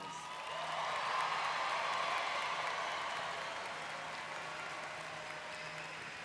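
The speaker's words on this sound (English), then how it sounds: "Everyone, let's give KSU's most recent graduates another round of applause." Sustained crowd applause for new KSU graduates at a spring commencement ceremony, a broad steady wash of clapping that swells early and then holds at a slightly lower level throughout.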